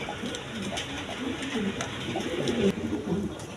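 A pair of Sirazi and Lahori pigeons sitting on eggs coo in soft repeated low phrases, close by, over a steady background hum with faint voices mixed in.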